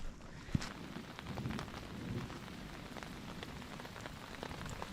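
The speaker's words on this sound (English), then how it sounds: "It's raining, folks. It just started. Right now it's really light" Light rain pattering steadily on a surface, with scattered soft drops and one sharper tap near the start; no voices.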